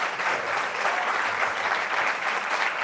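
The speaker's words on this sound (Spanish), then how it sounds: "les pido un gran aplauso para Gabriel y para Álvaro" An audience applauds after a university philosophy of law class, with dense, steady clapping from a room of people lasting throughout.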